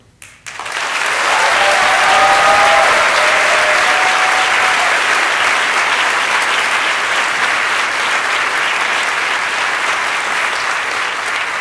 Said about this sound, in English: Let us give all these people a cheer and an applaud, a greeting from this hall